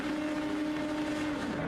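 Race car engines rev together on the grid at the start of a one-hour main event in a racing video game, a steady loud droning hum with sustained engine tones and no voices.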